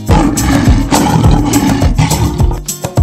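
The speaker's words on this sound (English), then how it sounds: "The sound of lion is" A lion roars loudly and close in a series of deep, rumbling bursts with short gaps between them.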